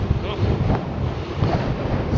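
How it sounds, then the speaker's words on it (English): Strong, gusty wind buffets an outdoor microphone beside a Rad Power RadMini electric fat-tire folding bike, a steady loud low roar with rough bursts throughout, no other sound standing out. "Wow, very windy. I could hear the wind in my ear."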